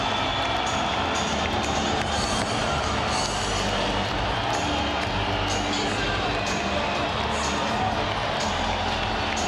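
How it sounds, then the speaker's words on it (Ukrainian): A football stadium crowd applauds and roars steadily after a home-team captain scores early, a dense, continuous wash of clapping and cheering at a distance with no break. "просто послухаємо, як стадіон зараз аплодує капітану цієї команди"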